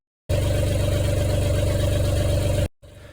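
A lifeboat's inboard engine runs steadily at close range, a loud, even mechanical drone with a low throbbing pulse that cuts off abruptly near the end, leaving faint background noise.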